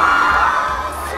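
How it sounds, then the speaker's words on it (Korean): Fans cheer and shout in a loud, sustained roar as a celebrity appears on his military discharge day, the crowd noise steady and close throughout. "팬들의 함성소리와 함께 등장한 준수씨"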